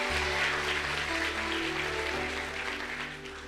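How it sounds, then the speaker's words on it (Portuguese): A church congregation at a conference applauds in a loud, dense wash of clapping over sustained music, fading slightly toward the end. "aplauda Jesus"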